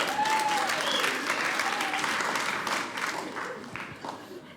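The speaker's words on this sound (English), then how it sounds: "Round of applause for yourselves." Audience at a stand-up comedy show applauds itself, a broad wash of many hands clapping that starts strong and gradually tapers off, with faint talk and a few whistles briefly rising above it.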